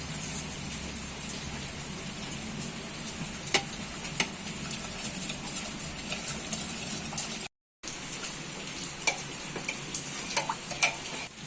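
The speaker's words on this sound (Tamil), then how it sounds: "அடுத்ததா வாஷ் பண்ணி ஊற வச்சிருக்க பாஸ்மதி ரைஸை ஆட் பண்ணிக்கலாம்." Soaked basmati rice is stirred into hot ghee in a pot for biryani, making a steady crackling sizzle with sharp scraping clicks from the spoon and a brief gap of silence partway through.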